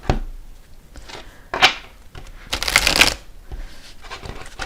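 Tarot cards shuffled by hand in a few quick, crisp riffling bursts with short pauses between, close and fairly quiet.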